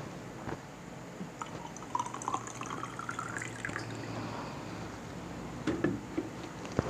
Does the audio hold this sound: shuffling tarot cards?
no